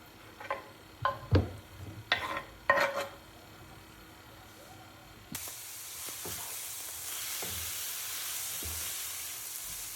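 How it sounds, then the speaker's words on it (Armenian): Chopped, pre-cooked chicken breast fries in a pan on top of carrots and onions. A few sharp utensil clicks come first, then a steady, close sizzle takes over. "Տապակում ենք եւ ընթացքում ավելացնում ենք համեմունքներ, աղ, սև պղպեղ, կարմիր պղպեղ։"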